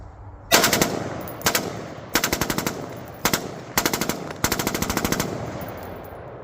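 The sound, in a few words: rifle gunfire being test-shot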